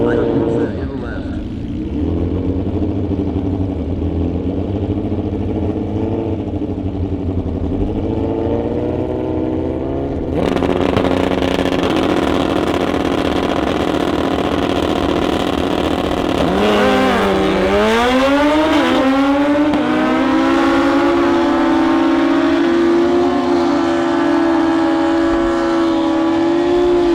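Kawasaki and Suzuki Hayabusa motorcycles run side by side at a heads-up drag race at Toronto Motorsports Park, engines droning loudly, then rising sharply through the gears as they launch, with an announcer talking over the roar.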